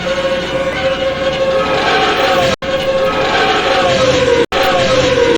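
Train rushing past in a scene from the 1988 animated film Oliver & Company, a loud continuous rumble and clatter with a high whistle-like tone, broken by two brief cuts.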